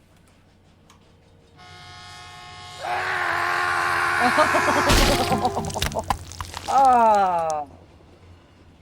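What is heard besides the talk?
train sound effect barreling past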